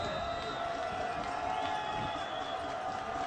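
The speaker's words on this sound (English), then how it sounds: "The Lake Orion crowd getting loud, trying to make things difficult for the Mustangs." Loud, steady crowd noise from a Lake Orion high school football game, a continuous roar of fans building over the field for the whole stretch, with a faint voice beneath it.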